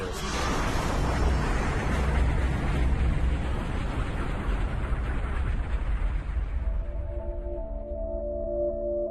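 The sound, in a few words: massive cosmic explosion sound effect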